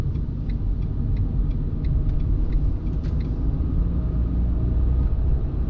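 A car pulls out of a roundabout and accelerates toward a shift into third gear, its engine a steady, loud low rumble heard from inside the cabin, with faint ticking throughout.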